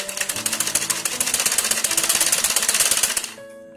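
A sewing machine runs steadily, stitching the folded hem of a circular palazzo skirt with a rapid, even mechanical chatter that continues for a few seconds and then stops.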